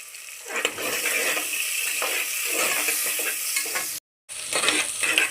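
Onions, green chillies and curry leaves sizzle loudly in hot oil with frequent stirring scrapes, then cut out for a moment before the frying resumes.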